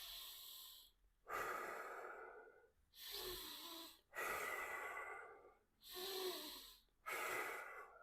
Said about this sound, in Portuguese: É controle de respiração. Respirar 3 vezes profundamente.